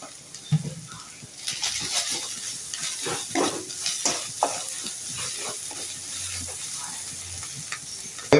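Cauliflower paratha filling stirred and fried in a pan, a steady sizzle with repeated scraping strokes of a spoon against the metal and occasional clinks, close and fairly loud with no talking.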